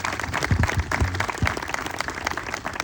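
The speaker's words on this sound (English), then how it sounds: "Let's give them a round of applause." Audience applause for first responders at a VFW 9/11 remembrance, a steady roomful of clapping with a few low thumps and murmurs underneath.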